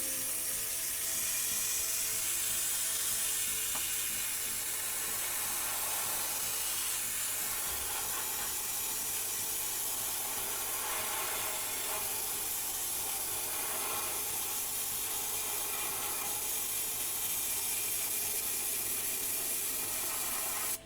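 An airbrush sprays paint onto an RC car body shell in a steady, unbroken hiss that stays loud and close for the whole stretch, with no talking over it.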